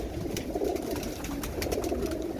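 Large pigeons, banded with phone-number leg rings, coo in low steady murmurs while the flock flies back and forth around their loft, with a few sharper chirps and flutters above.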